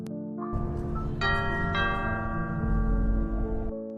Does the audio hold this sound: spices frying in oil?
no